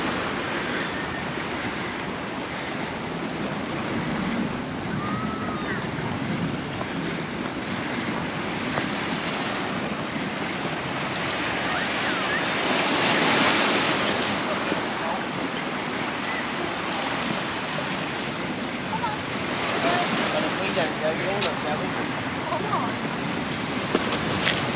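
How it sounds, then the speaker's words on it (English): Breezy wind gusting across a hillside above the sea at Palmanova, Mallorca, a continuous rushing buffet on the microphone that swells and eases over faint surf below, with a voice speaking over it. "it's a bit breezy up here, and the wind obviously gets funneled and it's blown about"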